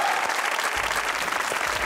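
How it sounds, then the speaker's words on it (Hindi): Studio audience applause on a Pakistani comedy talk show, a dense, steady wash of many hands clapping close and loud for the full length, with no talk over it. "आपकी भरपूर तालियों में मेरी मेहमान है मदिया इमाम।"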